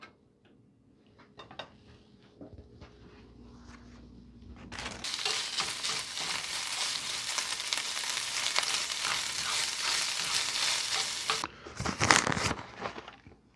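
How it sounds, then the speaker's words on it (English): A big quesadilla heating in a dry skillet gives off a steady, fairly loud sizzle that runs for several seconds after some quiet handling clatter, then cuts off before a few brief scraping sounds. "we're just going to heat this up in a dry skillet"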